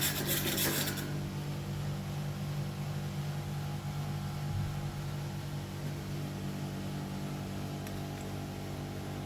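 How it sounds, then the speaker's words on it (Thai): Rust being scrubbed off a metal bathroom shelf: a steady, close rasping rub that carries on without a break, with a brighter scratchy burst at the start. "ขัดออกให้สะอาดครับ ขัดตามซอกตามมุมนะครับ"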